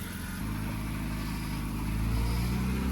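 A BMW E36 M3 with a swapped manual gearbox on its first test drive, the engine humming steadily up close and building slightly in loudness toward the end.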